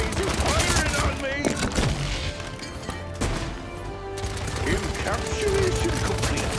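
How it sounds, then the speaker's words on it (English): Enemy gunfire in a Paladins PvP match: dense, rapid bursts of shots close by and loud, with crashing impacts, running almost unbroken throughout. "Enemies are firing on me."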